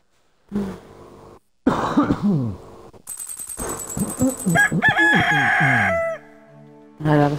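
A rooster crows loudly in the Stardew Valley video game, following short clucks and cough-like chicken noises, with a long ringing crow near the end.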